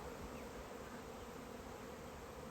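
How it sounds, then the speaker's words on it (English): Honey bee swarm fanning inside a box, a dense steady buzzing hum close up that stays constant and unbroken for the whole short stretch. "All of them just fanning like crazy."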